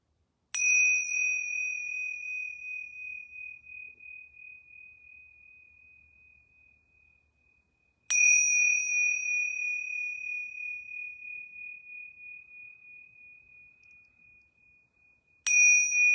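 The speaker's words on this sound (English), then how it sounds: "I'm going to ring these yoga bells 3 times" Yoga bells struck three times, each a clear high ring that hangs and slowly fades over several seconds, the strikes evenly spaced about seven seconds apart in an otherwise silent room.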